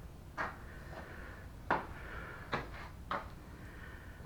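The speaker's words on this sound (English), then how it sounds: "David, I do believe the door works." A pet flap set into an exterior door swings and knocks against its frame four times at uneven intervals, quiet, close clacks over a still room.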